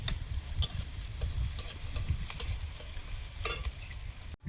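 Dry chillies and crushed garlic fry in oil on a stove, producing a steady close sizzle with a low rumbling undertone and periodic crackling bursts, no voices.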